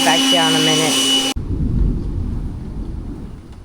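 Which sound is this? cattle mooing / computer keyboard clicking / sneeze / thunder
thunder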